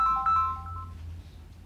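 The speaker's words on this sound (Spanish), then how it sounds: "me olvidé de apagar el teléfono" A mobile phone rings briefly, a short melodic ringtone of a few bright tones that cuts off after about a second, over a low room hum.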